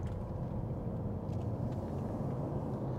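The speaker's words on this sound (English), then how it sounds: "Oh, that V6 pulls so nicely." A 2012 Mercedes CLS 350 CDI with a V6 diesel accelerating in sport mode, heard from inside as a steady low engine hum at moderate loudness, with no talk.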